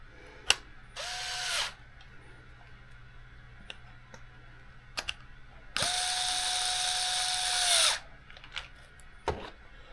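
A small power screwdriver drives screws to mount a servo in an Arrma Typhon Grom RC car chassis: two whirring bursts, the second longer, with scattered clicks and handling taps between them, close up and alone.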